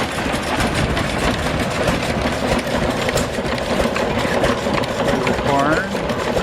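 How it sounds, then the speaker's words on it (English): An antique engine-driven corn husker or grinder runs at an engine meet, giving a loud, steady mechanical clatter and rumble that continues unbroken throughout, with a voice talking over it. "Here's a corn husker or a corn grinder."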